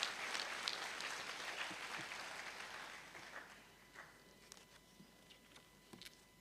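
Audience applause at a university congregation ceremony, the second session of the 8th UHAS Congregation, fairly distant clapping that fades over a few seconds into scattered lone claps.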